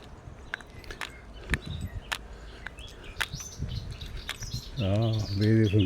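Sharp bird chirps and tweets ring out outdoors on a hillside road near Assisi, scattered clicks and footsteps around them, then a person starts talking near the end.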